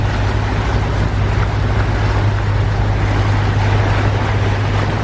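A boat engine runs loud and close with a steady low droning hum and broad rushing noise, holding an even level throughout with no voices.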